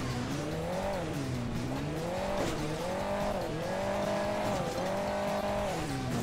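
Cartoonish engine drone from the Hill Climb Racing 2 mobile racing game, rising and falling in pitch in steady waves as the car revs, with a constant loud motor hum and no talk.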